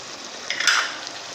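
Ground spices (Kashmiri red chilli, red chilli, coriander and turmeric powder) fry in oil with tomato paste for chana pulao, a soft, steady sizzle that swells briefly as the mixture is stirred.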